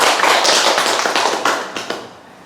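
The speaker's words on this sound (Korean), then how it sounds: "다시 박수로 우리 환영하시죠." Audience applause welcoming a speaker at a church mission gathering in Canada, a burst of brisk clapping that thins out and fades toward the end, with no talk over it.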